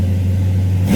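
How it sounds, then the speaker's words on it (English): A 1987 Chevrolet Monte Carlo with a swapped engine holds a steady loud rumble, then revs up sharply near the end, heard close with no talk. "Engine here, it's got a great sound to it."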